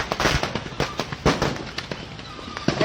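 Rapid crackling bursts of fireworks popping and exploding one after another, loud and close, with sharp irregular bangs throughout.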